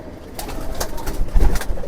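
Pigeons cooing inside a pigeon coop, soft repeated coos over low shuffling and rustling close by.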